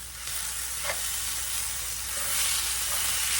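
Ground beef filling for empanadas sizzles steadily in a hot pan while being stirred, a constant close frying hiss with a few light scrapes of the spoon.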